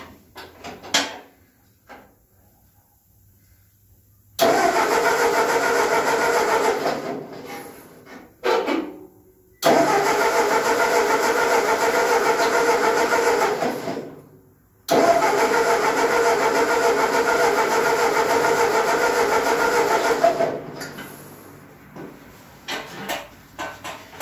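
Ford 8N tractor engine cranking without starting, three long bursts of loud mechanical churning separated by short pauses, with faint clicks and knocks between them.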